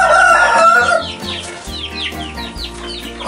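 A fighting rooster crows loudly and close up, one long strained call, then clucking and chatter from other fowl follow.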